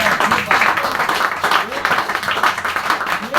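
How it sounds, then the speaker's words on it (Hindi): An audience at a product training session claps steadily in a dense, continuous patter, with some talking mixed in. "ताली होना चाहिए सर।"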